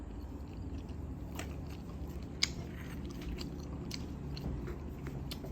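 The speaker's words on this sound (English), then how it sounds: "let me eat some more of this egg roll" Soft crunching and chewing on an egg roll during a mukbang, with small crisp bites and mouth sounds over a steady low room hum, close to the microphone and with no talking.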